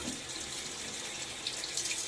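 A bathroom tap runs steadily into a sink during a wet shave with a Gillette Nacet blade, giving a continuous close hiss of flowing water with faint splashes and no voices.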